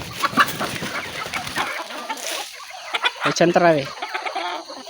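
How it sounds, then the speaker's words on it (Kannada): Chickens cluck close by, a cluster of sharp, repeated calls breaking out partway through amid a busy farmyard mix, with a person talking near the start. "ನಮ್ಮಲ್ಲಿ ಕೋಳಿ ಎಷ್ಟು ನೋಡಿ ಗೈಸ್"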